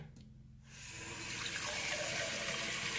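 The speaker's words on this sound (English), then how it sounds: "let's turn the hot water on and see what it goes up to" After a brief quiet moment, hot water gushes steadily from a tap into a sink, a continuous rushing splash close by.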